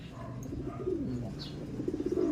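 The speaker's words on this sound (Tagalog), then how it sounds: "Ayan yung mga ibon natin." Pigeons cooing at close range, several soft low throaty coos in a loose rhythm, with no talk.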